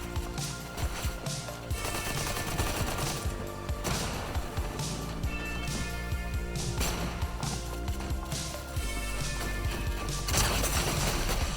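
New weapons fire in a video game in a 1v1 match, loud rapid bursts of automatic gunfire and single shots rattling in a dense, continuous stream with brief gaps.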